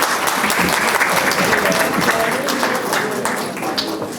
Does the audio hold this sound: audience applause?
yes